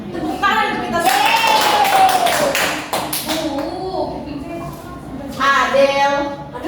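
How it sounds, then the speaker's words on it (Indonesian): A third-grade primary school class claps together in the classroom, a short burst of rhythmic hand clapping near and loud, with a teacher and children talking around it. "Tepuk tangan untuk kita semua."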